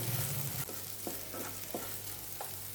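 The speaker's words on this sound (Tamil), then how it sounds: "நல்லா ஃப்ரை ஆகிடுச்சு. இப்போ கொஞ்சம் கருவேப்பிலையை சேர்த்துக்கலாம்." Ivy gourd stir fry sizzling steadily in a pan with curry leaves, a continuous close frying hiss broken by a few soft stirring scrapes, no talking.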